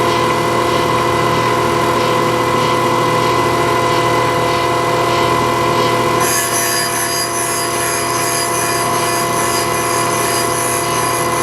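Valve grinding machine refacing an intake or exhaust valve from an air-cooled Porsche 911 cylinder head, a loud steady mechanical hum with a bright grinding whine that shifts in tone partway through.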